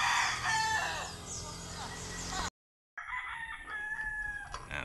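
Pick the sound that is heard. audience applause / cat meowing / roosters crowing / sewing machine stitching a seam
roosters crowing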